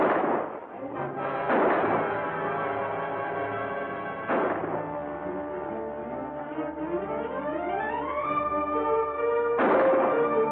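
Gunfire in a 1946 Western film: several sharp shots ring out at intervals, loud and distinct, over a background of orchestral music with sustained tones and rising lines.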